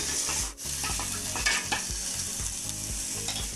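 Chopped onion and garlic paste frying in hot oil in a pan, a steady bright sizzle broken by repeated scraping stirs of a spatula, close and moderately loud with no voices.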